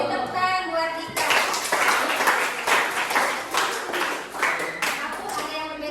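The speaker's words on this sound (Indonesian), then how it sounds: "Beri tepukan buat Dika" Classroom of students clapping for a classmate, a burst of dense applause breaking in after a voice and continuing steadily with uneven bursts of louder claps near the end.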